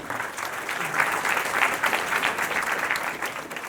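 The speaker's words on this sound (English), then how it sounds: "Let's give him a round of applause" A conference audience breaks into steady, dense applause, many hands clapping together at a consistent level throughout.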